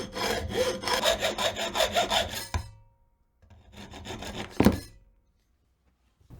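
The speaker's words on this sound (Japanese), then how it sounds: "10センチほどに切って電極にします。" A hand saw cuts through a 4 mm copper rod in quick rasping strokes, then stops, followed by a shorter second burst of sawing ending in a sharp knock, close and clear with no talking.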